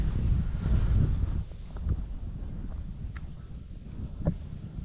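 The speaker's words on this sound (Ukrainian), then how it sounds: "Ах, зірвався такий вітер холодний" Cold gusty winter wind rumbles and buffets outdoors while ice fishing for roach, strongest at first and then settling into a steady low blustering with faint splashes of waves.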